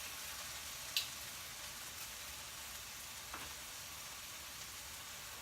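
Roast beef sizzles steadily in a crockpot with a soft, even hiss, close by, with a faint click or two and no talking.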